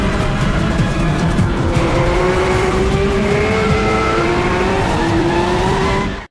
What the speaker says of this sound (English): Formula One race car speeding down the track